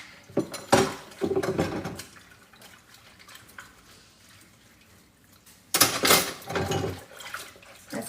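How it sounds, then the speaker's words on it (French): Dishes are washed by hand at a home sink, with clattering bursts of plates and cutlery under water at the start and again near the end, and a quieter stretch of faint splashing between. "c'est long comme vaisselle, là, honnêtement, je suis tannée"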